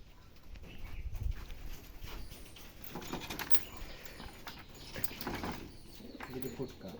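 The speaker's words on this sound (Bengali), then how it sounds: "এখানে দুটা ফুটকা কবুতর দেখতে পাচ্ছেন" Soft, low coos of Giribaz pigeons repeat through steady rustling and flapping noise, fairly close, with no clear voices.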